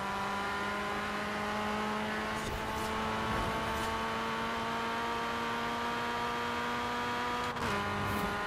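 A steady, whining car engine drones at a constant pitch with a brief dip near the end, in the racing game Forza Horizon 4, with no talking.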